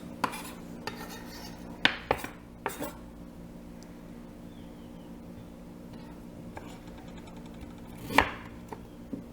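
A knife cuts chicken liver on a board in a home kitchen, heard as a few sharp, close chopping knocks scattered between quiet stretches, with faint background hum.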